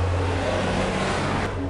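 A loud, rumbling vehicle roar fills the air continuously, close by, as a heavy truck rolls past.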